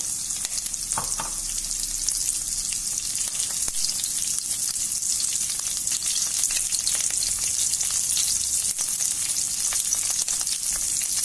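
Red chilli, green chilli, coriander and curry leaves fry in hot oil in a pan for a Chettinad chicken curry. The sizzle is continuous and loud, with crackling pops all the way through and no voices.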